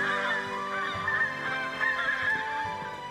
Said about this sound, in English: It sounds like a whole flock of geese.